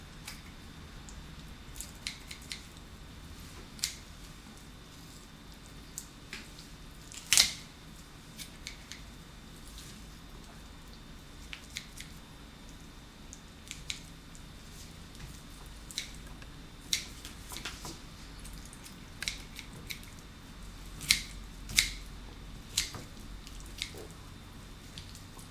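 Scattered faint snips and clicks of kitchen scissors cutting a chicken, sparse and irregular, with a couple of louder crisp cuts amid quiet handling noise.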